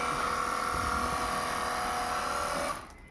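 Car washer gun machine spraying water at full pressure, a loud steady high-pitched motor whine with hissing spray that runs continuously and then cuts off abruptly near the end.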